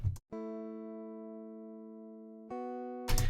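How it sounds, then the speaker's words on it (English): A clean preset jazz guitar software instrument holds one sustained note, then shifts to another, with no voices. "So it's just a standard preset jazz guitar, which by itself sounds pretty terrible"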